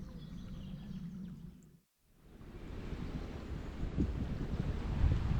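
Gusty wind buffets the microphone outdoors during a Tenkara fly fishing outing, a steady broadband roar that drops away briefly, then returns stronger and rougher, with no talking.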